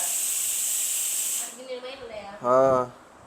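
A pressure cooker in a home kitchen releases steam with a loud, steady hiss for about one and a half seconds, then fades, followed by a short tonal whistle-like burst near the end.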